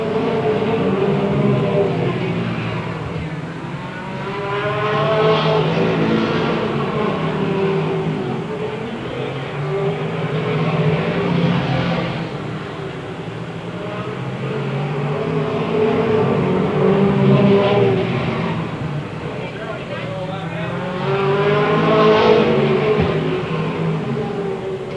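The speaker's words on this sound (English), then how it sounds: "leader goes by, 0-0, Scott Fraser" Stock cars race on an oval track in a 1993 MASCAR feature, passing one after another in repeated swelling engine roars that rise and fall every few seconds at moderate distance.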